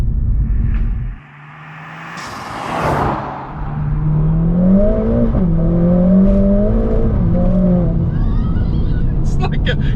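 Mercedes-AMG A45 S hatchback with a 500 hp engine, heard from inside as it accelerates hard, the engine note climbing through several gears with brief shift dips, loud and close, with a pop or whoosh near the start.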